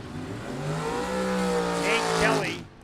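Super Pro drag racing cars launch off the line with a loud, rising engine roar that climbs through the gears, ending in a brief squeal of tires before cutting off; an announcer talks over it.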